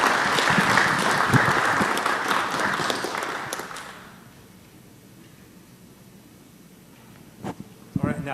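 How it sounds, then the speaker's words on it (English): Applause from the audience at a city council meeting, a dense crowd clapping for about four seconds before it fades out to quiet room tone, with a couple of brief sharp knocks near the end. "Let's give them a round of applause"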